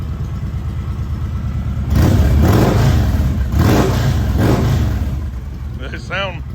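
An '03 Victory Vegas VFXRT V-twin fitted with slip-on mufflers idles with a deep, raspy note and is blipped through three quick rev rises, close up, with people talking over it.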